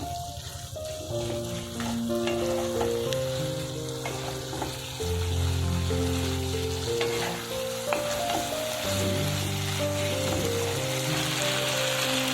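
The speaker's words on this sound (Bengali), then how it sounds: "এর মধ্যে দিয়ে দেব বাদাম বাটা এবারে একটু কষিয়ে নেব" Ground nut paste sautéed in a pan for dudher shukto sizzles and crackles steadily as it is stirred, close and continuous, with soft background music underneath.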